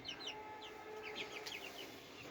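Colour-breed broiler chicks, 27 days old, cluck and peep in short repeated calls, a flock heard close by on a farm over a low steady hum, with no talking.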